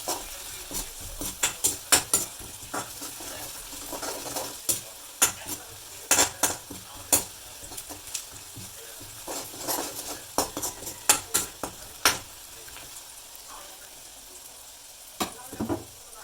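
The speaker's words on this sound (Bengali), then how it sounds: "প্রথমে তেল তারপর জিরা রসুন হলুদ মরিচ কাঁচামরিচ পেঁয়াজ দিয়ে একটু কষিয়ে নিতে হবে" Cumin, garlic, turmeric, chili, green chili and onion sauté in oil, a faint low sizzle broken by sharp, irregular clinks and scrapes of a utensil against the pot, close and without talking.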